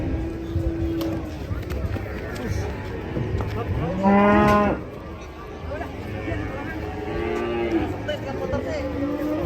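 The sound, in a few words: cattle mooing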